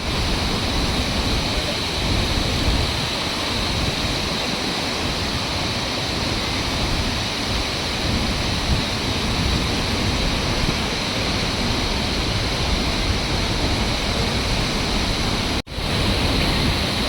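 A waterfall near Sela Lake in Arunachal roars loudly and continuously, a dense, unbroken rush of falling water with one brief dropout near the end.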